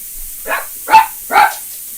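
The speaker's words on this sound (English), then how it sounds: "that was my dog" A household dog barks three times in quick succession, loud and close, each bark short and sharp with brief silences between them.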